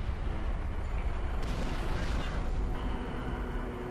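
Final protective artillery fire pounds a position in Halo Reach, a dense, continuous rumble of distant blasts and booms. It stays steady and loud throughout, with a brighter crackling swell partway through.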